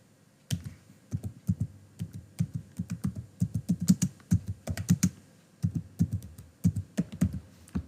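Fingers type HTML code on a computer keyboard, a close, steady run of crisp key clicks in irregular bursts with short gaps, no voice present.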